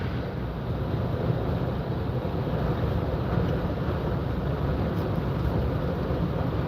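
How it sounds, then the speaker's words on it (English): Wind gusts blow during snowfall in Bayou La Batre, Alabama, as a steady, heavy, low roaring rush buffeting the microphone, loud and continuous throughout with no voices. "Wind is kicking it too, so every once in a while we get some big gusts."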